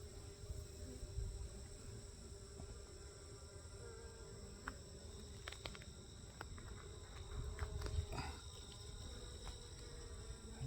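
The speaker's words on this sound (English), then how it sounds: "The bees are making some noise though." A steady, low droning hum of bees in a hive fills the whole stretch, with a few faint clicks and taps scattered through it.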